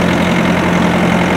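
A Bobcat engine idles steadily with a constant low hum and rumble, close and loud, with no other sounds.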